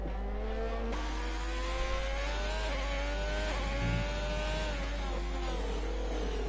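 Ferrari race car engine in a racing video game, revving hard and constantly through the corners with rising and falling gear pitches, loud and continuous.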